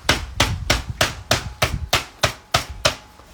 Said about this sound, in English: We'll get my least favourite rolling pin, and we're just going to beat it